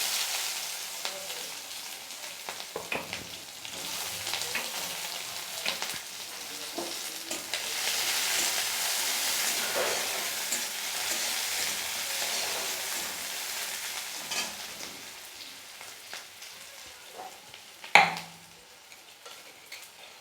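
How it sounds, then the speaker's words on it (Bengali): Chopped onions fry in mustard oil with black cumin for a fish curry, a constant soft sizzle that swells in the middle, with light stirring taps and a sharp clink near the end. "আমি দুটো পেঁয়াজকে কুচি করে রেখেছি পেঁয়াজ দুটোকে দিয়ে দেবো"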